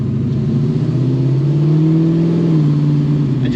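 1970 Chevrolet Chevelle 454 SS with a 632ci Merlin big-block V8 drives close by with a loud, deep engine note that rises in pitch as it revs, then eases off at the end.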